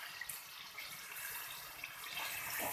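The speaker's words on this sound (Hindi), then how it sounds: "ये हमने इसके अंदर डाल दिया पानी" Water poured into a cooking pot of bhindi gosht (okra and meat curry) to make the gravy, a steady continuous splashing stream heard close and alone.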